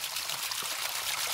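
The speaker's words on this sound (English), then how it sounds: "water wheel made with a bicycle." Water from a siphon runs through a homemade hydro wheel built from an old junk bicycle, giving a steady close rushing and trickling wash that holds evenly throughout with no talk.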